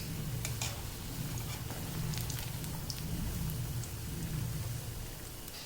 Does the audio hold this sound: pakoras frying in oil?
yes